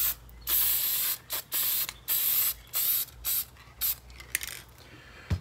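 Aerosol spray can misting paint onto an RC car body, a close, steady hiss in a series of short bursts separated by brief pauses, with faint clicks between passes.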